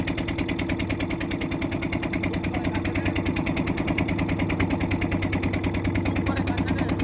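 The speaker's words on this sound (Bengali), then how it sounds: "দারুণ তো লঞ্চটা।" A launch boat's engine runs steadily and loud throughout, a close, rhythmic low chugging thrum with no voices over it.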